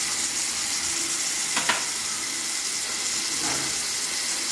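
Two cups of cashews fry in hot oil with a loud, steady sizzling hiss throughout, broken only by a brief clink near the middle and a faint scrape later, with no one talking.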